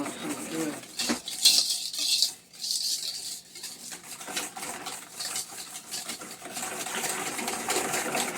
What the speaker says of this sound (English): I'm going to take time to whisk this together really well.